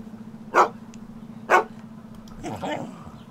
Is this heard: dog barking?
yes